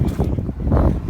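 Engine of a 2004 Cadillac Escalade with a 6.0-liter V8 revs smoothly, a loud, close, steady low rumble that swells and eases with no talking.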